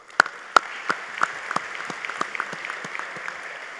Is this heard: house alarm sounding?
no